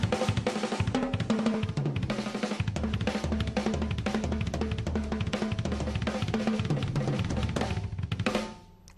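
Rapid drum fills trading between hands and feet in groups of two, four, six and eight, played loud and dense with thick low kick hits under cymbal wash, continuous until ringing out near the end, no talk.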